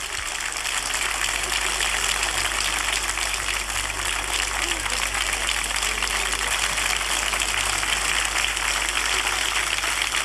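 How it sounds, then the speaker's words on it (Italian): Dense, steady applause from a theatre audience at a 1993 Roman song festival, sustained at an even level throughout with no breaks. "Complimenti e un applauso."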